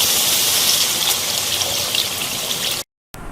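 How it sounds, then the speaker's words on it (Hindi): Water poured steadily into a cooking pot of chana pulao, with rice and yogurt in the dish, a continuous close splashing gush that stops abruptly near the end before a brief resumption. "जी, अब हम इसके अंदर अपना पानी शामिल करेंगे।"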